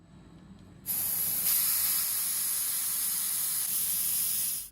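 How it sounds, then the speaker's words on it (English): A spray gun blasts a steady, loud hiss of coloured cocoa butter onto chocolate Easter egg molds, starting abruptly after a moment of quiet and holding continuously until it cuts off at the end. "I spray both molds totally the same way."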